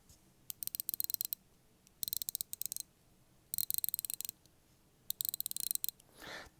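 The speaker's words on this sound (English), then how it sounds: "That's a very nice, positive sounding bezel" A rotating watch bezel on a newly built watch ratchets in quick runs of crisp, close clicks, four separate turns separated by short pauses, followed by a faint soft rustle.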